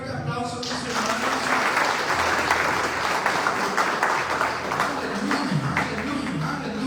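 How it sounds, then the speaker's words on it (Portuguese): Church congregation at a Sunday service breaks into applause, a sustained wash of clapping with faint voices and music-like tones underneath, fairly quiet overall. "Un fuerte aplauso a tus hermanos."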